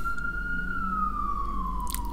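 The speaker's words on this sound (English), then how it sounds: "Sirens." Emergency vehicle siren passing outside, a single slowly falling wail that drifts downward in pitch, moderately distant over a low background rumble, with no talk.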